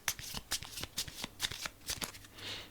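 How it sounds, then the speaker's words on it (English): A deck of playing cards being shuffled up close, with repeated crisp riffling bursts in a steady rhythm, clear and alone. "Let's shuffle this up."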